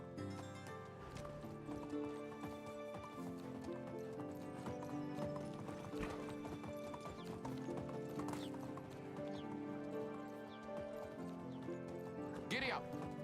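Horse hooves clip-clop steadily at a riding pace in the medieval survival game Medieval Dynasty, with a brief whinny and game music underneath throughout.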